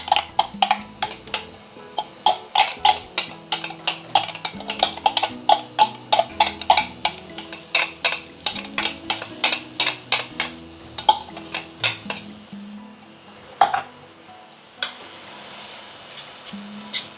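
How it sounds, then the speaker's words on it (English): Chili sautéed in medium-hot oil for Muar-style chili prawns, rapid repeated clacks of a spatula against a wok with soft sizzling beneath, rhythmic stirring strokes that thin out toward the end over quiet music. "you can just use medium heated oil to slowly saute this until the color really gets darkened"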